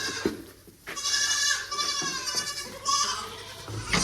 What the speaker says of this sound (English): Baby goat Linus.